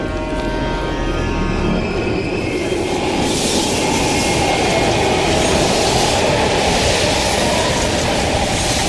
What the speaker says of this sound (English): We can use a train to slip past.